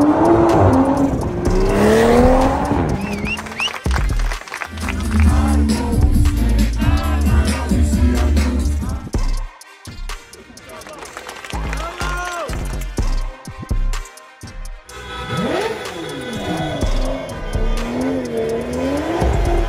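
Drag racing cars at a Rustavi event rev hard and tear away, their engines roaring with sharp tire squeals and skids, loud and close. Voices talk over the noise, and the engines fall back briefly before rising again.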